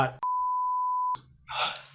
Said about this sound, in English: I'm gonna beep out the name